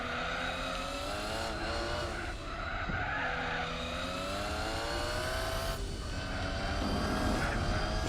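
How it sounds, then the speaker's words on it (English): Car on sport tyres in Gran Turismo 4, set up for drag racing, with wheels spinning and squealing for grip: loud continuous engine whine and skid howl, pitch sweeping up and down across several gear shifts, no talk. "As you can hear the wheels spin where the sport tyres are trying desperately to find grip and they just don't have the contact to do so"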